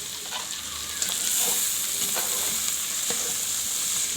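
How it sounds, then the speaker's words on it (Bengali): Shrimp and bitter gourd frying inside a rice cooker without a gas flame, stirred with a few light scraping strokes over a steady, moderately loud sizzle. "নাড়াচাড়া করে দিলাম"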